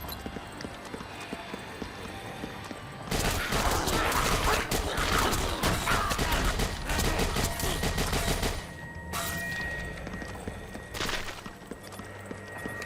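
Sustained rapid rifle gunfire in the video game Dead Nation, played on PS Vita, comes as loud dense bursts with short pauses between volleys over a constant game background.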